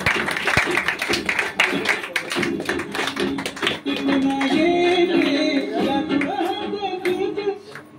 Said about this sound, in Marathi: जोरदार टाळी, जोरदार